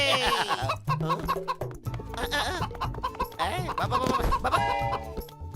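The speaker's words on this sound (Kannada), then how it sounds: "ಅಯ್ಯೋ ಏನೋ ಮೋಟಲು, ಒಂದು ಕೋಳಿ ಹಿಡಿಯಕ್ಕಾಗ್ಲಿಲ್ವಲ್ಲ ನಿನ್ ಕೈಲಿ." Cartoon chickens cluck and squawk busily, close and loud, over lively music with a few bursts of laughter.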